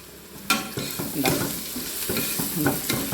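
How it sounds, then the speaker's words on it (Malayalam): Onions salted and sautéed in a pan for beef biryani, with soft sizzling under repeated stirring scrapes of a spoon against the pan, close and fairly quiet. "സവാള ഇത് നന്നായിട്ട് വഴറ്റിയിട്ടുണ്ട്"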